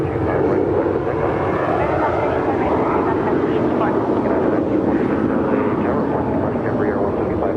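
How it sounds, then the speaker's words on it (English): A United Airlines Boeing 737 MAX 9 takes off at Los Angeles International Airport, a loud steady jet engine roar filling the whole stretch without letup. "Next departure, United Airlines 737 MAX 9 heading to Houston, Flight 1946."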